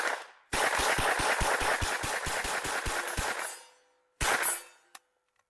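MAB 38 submachine gun firing a fully automatic burst of about a dozen sharp rapid shots close up, followed by a short second burst and a metallic clink.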